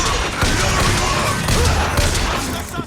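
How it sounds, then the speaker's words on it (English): Automated turret gunfire in BioShock Infinite, a dense loud rattle of rapid shots and impacts filling the whole stretch with a few sharper bursts. "I'm being shot by turret"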